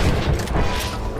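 A single gunshot from a firearm in the Red Dead Redemption game amid a shootout by a cabin, a sharp boom with a brief crash-like tail, fairly loud and close.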